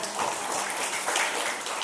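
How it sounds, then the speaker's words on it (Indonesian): Steady applause from an audience at a kindergarten report-card and farewell event, a dense even patter of clapping that holds for the whole short stretch without talk. "Berikan tepuk tangan untuk Mas Faiz."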